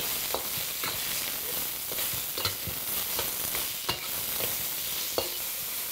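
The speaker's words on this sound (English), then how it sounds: "just throw that into your wok. And we're going to stir fry for 3 to 4 minutes" Pork cubes stir-fried in a wok give a steady, close sizzle, broken by sharp scraping clacks as the meat is tossed at irregular intervals, with no talking.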